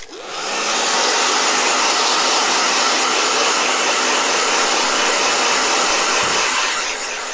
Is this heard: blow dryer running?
yes